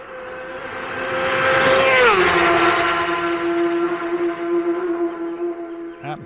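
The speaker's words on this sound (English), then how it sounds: "And here comes another bike through." A racing motorbike on Senior race day tears past the marshals' post by the Sulby Glen pub at high speed: a loud, high engine note that swells, drops sharply in pitch around two seconds in, then fades as it recedes.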